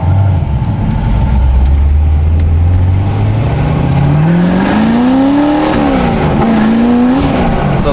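Corvette C6 Z06 on a test drive with a freshly replaced clutch, engine note rising steadily through the gears, loud and close from inside the cabin with a brief dip at each shift and no talking.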